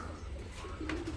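Racing pigeons give a soft, brief coo, close but quiet, over low outdoor background noise.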